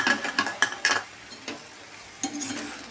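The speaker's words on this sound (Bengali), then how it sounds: "এবার আমি ভেজে রাখা পনিরটা দিয়ে দিলাম।" Fried paneer is stirred into a capsicum and tomato masala in a pan, giving a quick run of scraping spoon strokes and clinks over a soft, brief sizzle, close and without talk.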